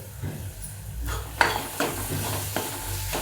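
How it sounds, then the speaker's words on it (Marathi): Pav bhaji sautéed in a pan with a ladle: quiet sizzling broken by several distinct scraping strokes and metallic knocks of the ladle against the pan. "थोडंसं एक पळी परतू दे चांगलं"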